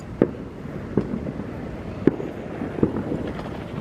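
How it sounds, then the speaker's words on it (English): Four sharp fireworks bangs go off at irregular intervals over a car park in Crewe, echoing over a constant low rumble of wind and distant noise. "it sounds like bloody World War III here, where all the fireworks are for"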